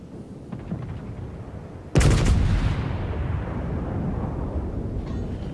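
A battleship gun salvo in the World of Warships naval game lands as one loud, broad blast about a third of the way in, then decays into a long rumbling tail over steady background engine noise.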